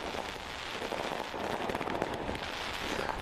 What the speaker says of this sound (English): Lone Wolf Fireworks lighting up the sky.